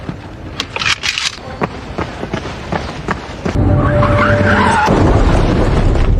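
A car skids and crashes in a loud burst: sharp knocks and thuds lead into a sustained roaring screech with a tonal whine that fills the second half, close and forceful, with no voices.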